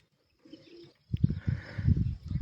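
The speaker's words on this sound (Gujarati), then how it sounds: "પણ ખૂબ કબૂતર આવે." Pigeons at a grain-feeding spot coo in low, throaty pulses, close and fairly soft, beginning after a brief quiet stretch and repeating in a loose rhythm.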